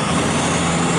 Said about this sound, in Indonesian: Truk damper.